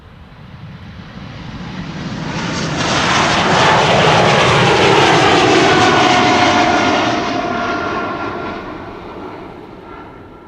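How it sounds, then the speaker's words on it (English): An Embraer E195-E2 jet airliner departs Amsterdam Schiphol Airport, its engine roar swelling from a distance to a loud peak overhead, then fading away steadily. "This is an E2 Embraer 195."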